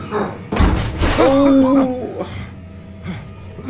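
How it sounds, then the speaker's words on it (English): An oven door in the horror game Visage is wrenched open with a loud slam and heavy thud, followed by a creaking groan, while someone talks nearby. "How come it took you so long to open that door,"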